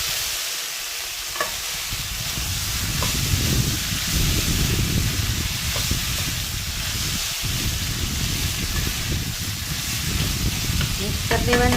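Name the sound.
boiled corn kernels stirred and frying with tomato in pan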